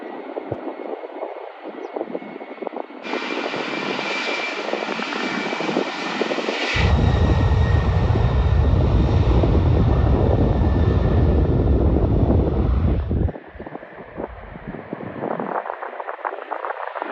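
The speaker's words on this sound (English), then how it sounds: "The C5M Galaxy took off too slow, forcing the Airbus A330 behind it to go around." A C-5M Galaxy military transport aircraft taking off slowly, its jet engines building to a loud, sustained roar with a deep rumble that holds for several seconds before easing off, no voices.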